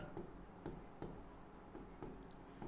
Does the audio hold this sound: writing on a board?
yes